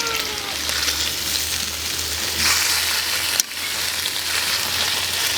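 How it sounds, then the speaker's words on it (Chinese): Loach fish sizzle steadily in a hot pan after being flipped, a continuous dense frying hiss with small crackles and one brief clatter near the end, close and fairly loud, no talking. "再翻面煎。"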